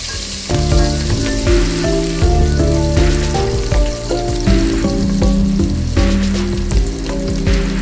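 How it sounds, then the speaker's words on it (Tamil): Sliced onions fry in hot oil until golden brown, giving a loud, steady sizzle and crackle that runs unbroken throughout, with no talking. "வெங்காயம் நல்லா கோல்டன் கலரில் பொன்முருவெல்லாம் ஆகிற வரைக்கும் நம்ம இது மாதிரி வறுத்துக்கலாம்"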